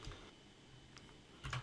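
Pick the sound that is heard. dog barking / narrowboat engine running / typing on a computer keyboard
typing on a computer keyboard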